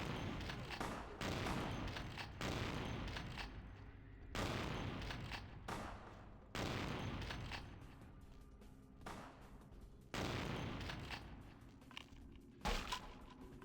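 Gunshots in Vampire: The Masquerade - Bloodlines, a series of loud sharp bursts in quick succession, several distinct shots separated by brief gaps with reverberant tails.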